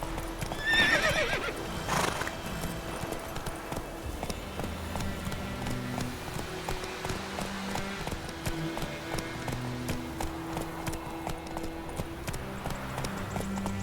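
A horse in The Witcher 3 gallops with steady hoofbeat clip-clop and lets out a loud whinny early on, set against continuous game music.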